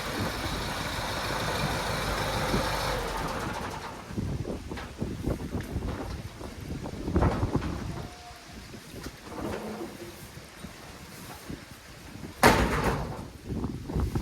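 Heavy shed door dragged and shifted in a hay shed after a Massey Ferguson 1200 tractor is parked inside, giving scraping, rattling bumps over steady wind and low engine rumble, with a sharp clatter near the end.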